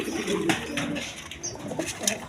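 A pair of racer pigeons coos in low, repeated rolling calls, close and clear, with a soft rustle of movement and no talk over them.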